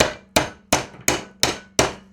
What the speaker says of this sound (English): get your hammer and flatten it right down